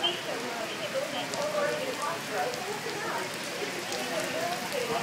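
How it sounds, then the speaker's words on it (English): Steady, faint rain hisses across the water of a wave pool during a typhoon storm, a dense wash of drops with no clear pauses. "This is a typhoon."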